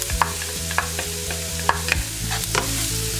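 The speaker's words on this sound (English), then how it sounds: "and just continue to saute these" Peppers and thyme sauté in a hot pan for curry coconut lobster, with a steady sizzle under repeated sharp clinks and scrapes of a utensil stirring against the pan.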